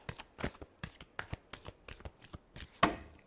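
A deck of tarot cards is shuffled by hand in quick, irregular riffles and flicks, close and quiet, ending on one sharper snap.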